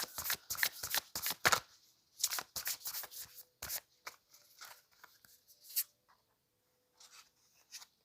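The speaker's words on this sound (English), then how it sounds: "let's pull a couple oracle cards here" Oracle cards being shuffled and drawn from a deck, close and crisp: rapid riffling bursts of papery flicks at first, then slower slides and taps with quiet gaps.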